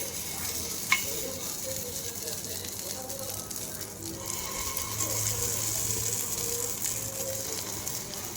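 Rice appe batter hisses in an oiled appe pan, a constant close sizzle with a sharp click near the start and faint scraping from a spoon, while someone talks quietly underneath.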